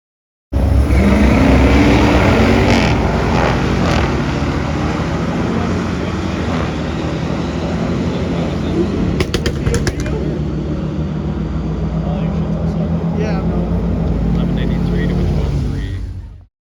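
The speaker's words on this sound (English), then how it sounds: "Funny to see a pair of matching vehicles going down the strip." Two Ford Shelby GT350s drag racing side by side down a strip, a loud sustained engine roar running steadily for most of the stretch before cutting off, with brief sharp bursts midway.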